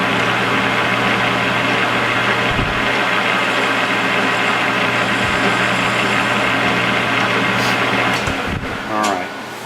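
A lathe spins while facing off a brass part from a Marvel Schebler carburetor, giving a loud, steady motor hum with a constant whine and a few brief knocks near the end.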